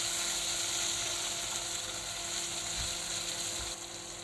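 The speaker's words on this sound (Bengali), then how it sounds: "একটু নাড়াচাড়া করব।" Chopped tomato sizzles steadily in a frying pan, a dense crackling hiss with a couple of dull knocks from a spoon as it is stirred.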